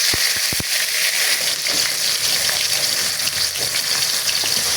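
Onion paste frying in a pan for a Bengali dish of sea ribbonfish, sizzling and crackling loudly and steadily after a few sharp knocks at the start.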